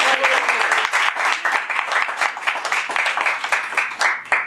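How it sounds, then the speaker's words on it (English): Lively close-up applause from a small group at a Toastmasters club meeting, brisk uneven clapping with individual hand claps standing out, continuing throughout. "Now let's give ourselves a hand and support everybody."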